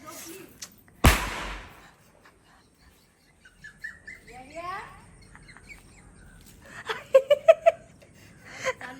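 One sharp, loud firecracker bang rings out, followed later by a quick cluster of smaller pops, with voices and chirpy calls in between.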